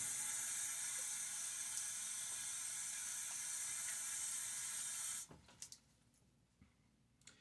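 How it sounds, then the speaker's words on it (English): A Timeless stainless .68 open-comb safety razor fitted with a Gillette Nacet blade is rinsed under a running tap. A loud, steady rush of water runs about five seconds, then cuts off, leaving a few faint clicks and drips. "A little rinse now."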